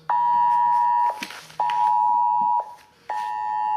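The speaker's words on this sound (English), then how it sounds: "now my phone is telling me there's a tornado warning in this area" A mobile phone blares a tornado warning emergency alert: loud, steady electronic tones in long bursts about a second each, separated by short gaps, repeating three times with no talk over them.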